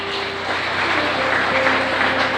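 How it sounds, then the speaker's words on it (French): Church congregation at a Haitian evangelical service applauding, a steady dense wash of many hands clapping throughout, moderately loud with faint tonal hum underneath. "Nous applaudissons l'église"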